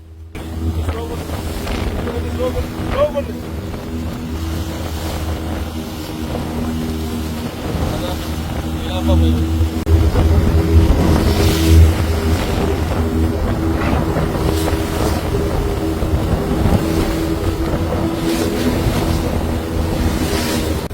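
A fishing boat's engine drones low and continuous at sea off Kanyakumari, beneath wind buffeting and water noise, with occasional gusts sweeping across the microphone.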